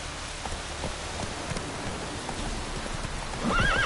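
Roach the horse gallops through rain in The Witcher 3: Wild Hunt, muffled rhythmic hoofbeats under steady rainfall, ending in a loud, rising and falling whinny in the final half second.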